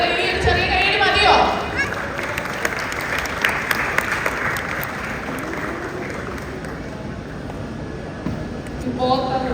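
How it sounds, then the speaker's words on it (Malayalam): Applause from guests at an engagement ceremony: a crowd clapping steadily and warmly, with cheering voices and chatter mixed in, fading slightly before a brief voice near the end. "ഒരു വലിയ കയ്യടി."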